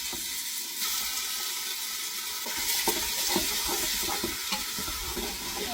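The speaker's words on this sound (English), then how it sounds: "So I'm going to pop them into a bowl and then fry my beef off." Beef frying in a pan gives a steady, close broadband sizzle, with occasional stirring clatter and scrapes throughout.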